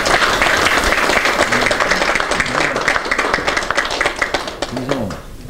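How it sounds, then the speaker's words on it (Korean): Sustained applause at a Korean party committee meeting, with a room full of people clapping steadily and loudly while murmured voices run underneath. "박수로 환영합니다"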